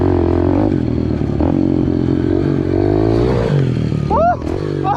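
A Yamaha TTR dirt bike engine runs loud and close with steady revving and some clatter, then a sharp rising whine near the end, as voices shout over it.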